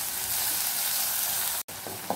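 Chopped onion frying in hot oil, a dense, steady sizzle close by, broken by a brief silent gap near the end and a small clink after it, with no voices.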